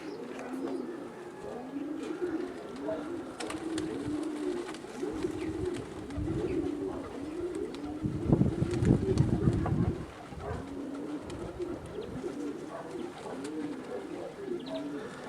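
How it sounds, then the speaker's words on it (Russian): Young pigeons cooing repeatedly in a steady rolling chorus outdoors in strong wind, with a louder bustle of wings or movement near the middle and faint talk. "Это первые голубята."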